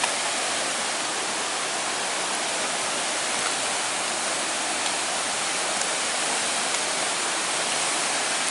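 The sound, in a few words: small waterfall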